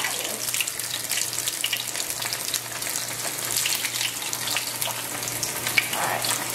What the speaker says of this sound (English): It's kind of scary doing it with the fryer because it always shoots bubbles at you.